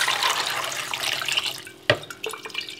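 Water poured from a quart container over eggs in a bucket splashes steadily and fairly quietly, then ends in a sharp splash and a few trailing drips, with no voices.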